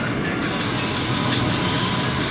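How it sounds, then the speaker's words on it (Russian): Blue-and-white electric passenger train rolling past in Krasnodar, a steady loud broadband rumble with rhythmic wheel clatter and no voices. "Видишь, вот здесь пассажирский поезд едет."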